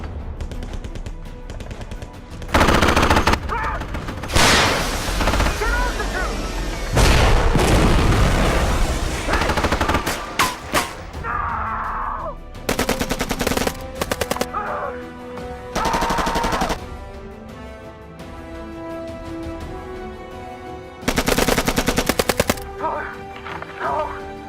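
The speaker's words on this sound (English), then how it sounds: "Riggs, give us some cover fire." Machine guns lay down cover fire in an action movie battle scene, heavy bursts of automatic fire alternating with short pauses, shouting and soundtrack, loud and close throughout.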